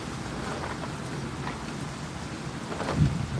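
Gusty wind with low rumbles of distant thunder out on a lake from a canoe as a storm moves in, a steady broadband roar with no talking.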